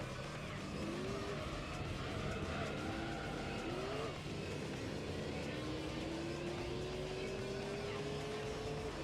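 Race cars in Gran Turismo 3 on PS2, among them an Arta NSX, roar steadily through a long endurance race, with engine tones rising and falling and a brief tire squeal under a continuous drone.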